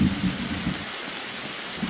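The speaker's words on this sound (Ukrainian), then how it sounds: "Ще плюс гроза." Thunderstorm with heavy rain in Roblox 99 Nights in the Forest: a steady, close hiss of rainfall with low thunder rumbles pulsing at the start and end.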